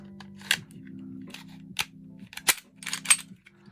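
A Glock 43 pistol gives several sharp trigger-pull and reset clicks, close and crisp, spaced irregularly over a low steady hum.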